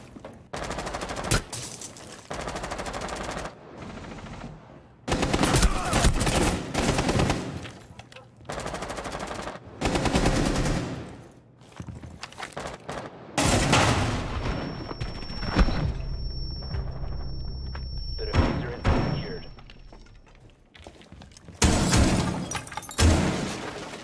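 Automatic rifle fire rattles in loud, dense bursts during a Rainbow Six Siege match, with sharp gunshots repeating in clusters and short pauses between, plus brief game sound effects.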